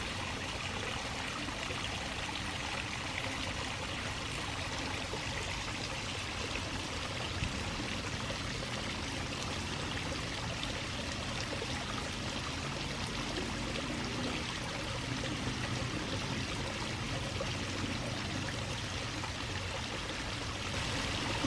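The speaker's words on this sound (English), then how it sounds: "I'm down here on the house side of the Intermittent Creek to the right of the bridge, and just showing you the view of the water flowing" Water from an intermittent creek flows beside a bridge, a steady, faint trickling and rushing wash that continues evenly without pause and with no voices.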